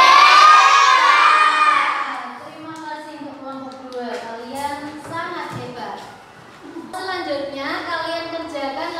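A group of schoolchildren shouts the 'tepuk hebat' classroom cheer together, a loud rhythmic chant of repeated calls in a room; distinct claps are hard to pick out.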